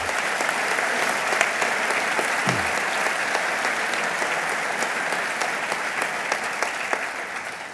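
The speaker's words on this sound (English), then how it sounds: "Could you please give them a big round of applause?" An audience at a governor's economic development funding announcement applauds: sustained, even clapping from a sizeable crowd that holds at a steady level throughout and tapers slightly at the end.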